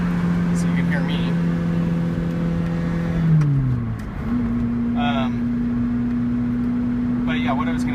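A Lotus Elise sports car's engine hums steadily from inside the small cabin, its tone dropping and then settling at a new pitch as it shifts, with a voice heard briefly.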